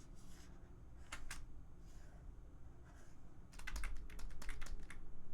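Keys tapped on a computer keyboard, a few soft scattered clicks followed by a quicker burst of typing, close and quiet with no voices.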